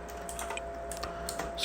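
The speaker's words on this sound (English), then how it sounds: "So I need to type nv flash" Light, quick keystrokes on a computer keyboard while a command is typed, soft and close with a faint electronic hum underneath.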